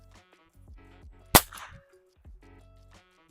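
A single sharp gunshot fired straight up during gun dog training rings out loud and close, with a short decaying tail, between quiet stretches of someone talking.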